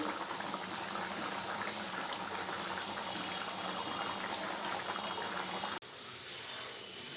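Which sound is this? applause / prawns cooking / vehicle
prawns cooking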